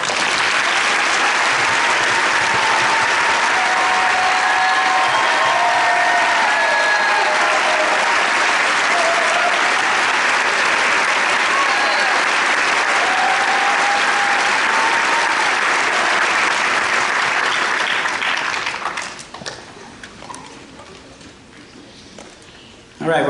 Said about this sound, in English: please stand for a round of applause to thank you for your efforts on your students' behalf